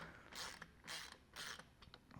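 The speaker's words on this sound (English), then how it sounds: "just lightly tighten these down" A screwdriver tightens Torx screws on a steering wheel of a Nissan G37 during a Z1 steering wheel install: three quiet close ratcheting turns with short pauses, followed by a few faint clicks.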